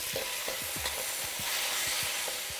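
Szechuan beef stir-frying in a hot pan with a steady loud sizzle, punctuated by repeated spatula scrapes and knocks in an uneven rhythm.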